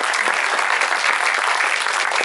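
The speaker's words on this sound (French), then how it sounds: "Applaudissements" Steady, loud audience applause fills a cinema at a film premiere with Pedro Almodóvar, Julianne Moore and Tilda Swinton, a dense continuous wash of many hands clapping with no pauses.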